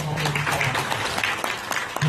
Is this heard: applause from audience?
yes